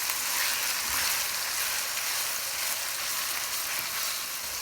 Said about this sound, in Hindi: अब हम सारा जो कीमा है अच्छे तरीके से इसको फ्राई करते जाएंगे।